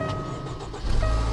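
A Ford engine in an abandoned 1980s Pontiac Firebird from a Copart lot cranks and catches, a low rumble swelling partway through after a quieter hum.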